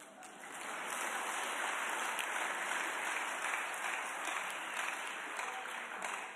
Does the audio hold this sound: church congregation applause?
yes